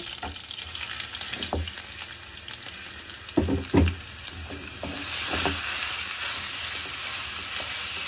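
Chicken shawarma meat sizzles in a little oil in a frying pan without added water. A steady frying hiss runs throughout, with a few soft knocks from stirring and a brief louder flare of sizzle near the middle.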